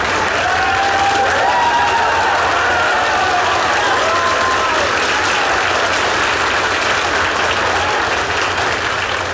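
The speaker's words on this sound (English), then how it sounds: "As you can probably tell from that applause, we have had a successful MECO, stage separation and second stage engine start for Electron." Applause and cheering fill a Rocket Lab launch control room after Electron rocket stage separation during a satellite launch mission. The clapping is loud and continuous throughout, with scattered whoops.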